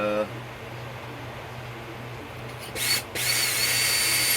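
A .30-06 brass rifle case is trimmed and deburred at a reloading bench for an M1 Garand. A low motor hum gives way to a louder, steady whirring grind of the tool against the brass.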